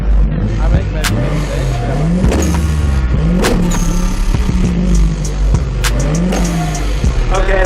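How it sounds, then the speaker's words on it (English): A show car's engine revs repeatedly at a car show at a country club, rising and falling in loud bursts close by, with crowd chatter and talk underneath. "This is the best sounding car."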